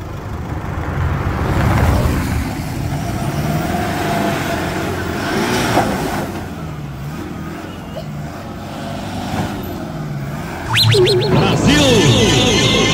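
A Toyota 4x4 in low-range four-wheel drive grinds a steady, low engine rumble while trying to climb out of an off-road obstacle, rising in effort near the end, with people talking over it.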